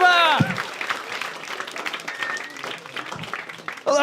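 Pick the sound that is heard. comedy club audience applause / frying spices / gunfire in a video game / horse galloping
comedy club audience applause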